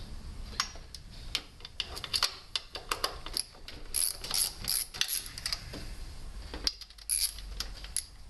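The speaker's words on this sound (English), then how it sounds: "we're going to take and remove the two retaining bolts." A hand ratchet clicks in quick, steady runs while backing out retaining bolts on a GM Vortec 5.7 350 engine during a lower intake manifold gasket repair, close and crisp with short pauses between strokes.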